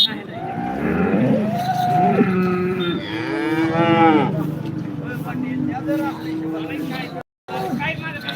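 Cows at a cattle market moo in long, loud, drawn-out calls close by, one after another, with a voice talking over them and a brief dropout near the end.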